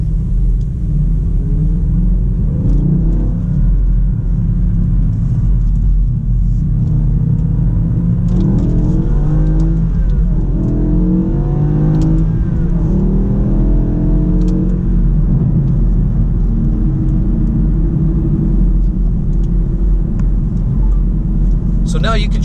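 A BMW car with an SMG 3 automated manual gearbox pulls away and climbs through the gears, its engine rumble rising steadily with audible shift breaks, heard from inside the cabin while someone talks over it.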